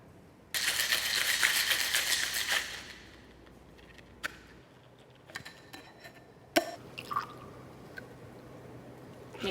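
A cocktail shaker holding vodka, muddled mint and blueberries is shaken hard for about two seconds with a loud rattling splash, followed by scattered faint clinks and taps.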